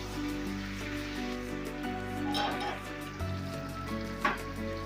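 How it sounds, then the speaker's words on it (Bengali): Hot water poured into mutton curry frying in a pot: a continuous hiss and bubbling sizzle, steady and close, with a brief louder splash near the end and a low hum underneath. "গরম জলটা ঢেলে দিলাম।"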